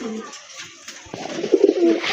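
A healthy pair of pigeons coo nearby, the throaty rolling calls rising in a short cluster toward the end over a quiet indoor background.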